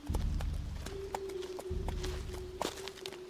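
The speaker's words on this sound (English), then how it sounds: "the mounted horse." A ridden horse's hooves clip-clopping in a steady walking rhythm, fairly close and distinct over a low droning music bed.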